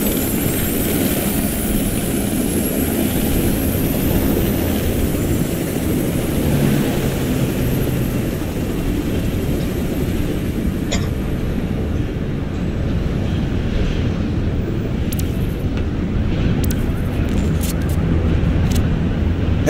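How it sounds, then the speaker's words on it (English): A steady, loud mechanical roar hums without a break as a helicopter hovers nearby in the video game Watch Dogs 2, filling the whole stretch with noise. "I do believe that is a helicopter."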